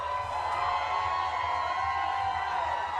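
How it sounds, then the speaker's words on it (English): Crowd cheering at a baseball game between the Rockford Rivets and Kalamazoo Growlers, a steady distant roar of voices and whoops from the grandstand, sustained and even throughout. "and that's the cheering you hear"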